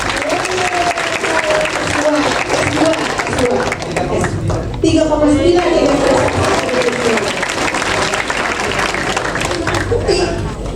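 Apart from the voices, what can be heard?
audience applause at university lecture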